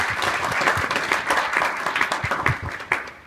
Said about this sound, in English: I just like for y'all to give them a round of applause